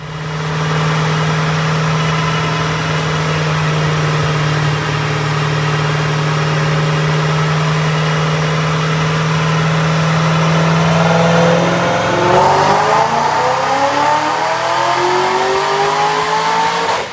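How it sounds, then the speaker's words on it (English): Supercharged 2009 Roush Mustang with a 3-valve V8 on a dyno pull, loud and close, holding a steady drone before revving hard and climbing in pitch through the run. "Check out this dyno pull"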